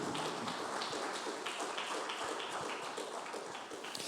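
A church congregation clapping together, dense rhythmic applause in steady even beats filling the room.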